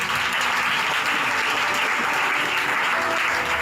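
A church congregation at a French-language missionary convention breaks into sustained applause, dense and steady throughout, filling the hall evenly with no pauses.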